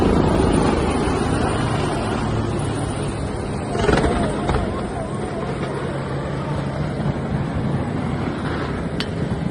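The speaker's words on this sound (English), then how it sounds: "Two Royal Malaysian Navy helicopters were rehearsing for the Navy's 90th anniversary event" Two Royal Malaysian Navy helicopters fly overhead while rehearsing for the Navy's 90th anniversary event, a loud continuous rotor and engine roar, with voices faintly audible beneath it.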